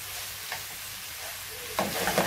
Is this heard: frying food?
yes